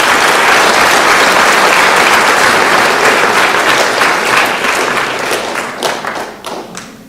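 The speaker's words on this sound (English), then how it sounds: "Let's give all those athletes a round of applause." Loud applause from an audience at a school sports awards ceremony, honoring student athletes: dense, steady clapping that holds strong, then thins toward the end, with a few louder separate claps standing out as it dies away.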